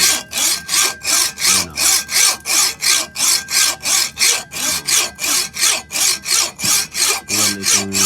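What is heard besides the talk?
hand saw cutting hard rock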